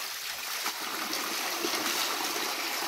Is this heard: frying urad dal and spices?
no